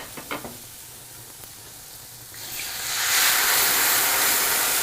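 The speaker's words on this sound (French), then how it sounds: "Cette poêle-là, c'est pour la sauce. La même chose, du beurre et des échalotes." Shallots cooking in butter in a frying pan for a sauce, with a few soft taps at first, then a steady sizzle that swells into loud, dense frying hiss over the second half.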